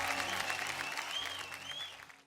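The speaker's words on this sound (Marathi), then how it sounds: "एकदा जोरदार टाळ्या होऊन जाऊ द्या" An audience on a Marathi TV show stage bursts into loud, sustained clapping that fades toward the end, with a faint voice under the applause.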